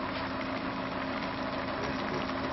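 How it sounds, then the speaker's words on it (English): A running engine holds a steady, loud drone for the whole stretch with a constant hum beneath it, heard alone with no talking. "We'll immediately notice the engine go up, start to go faster."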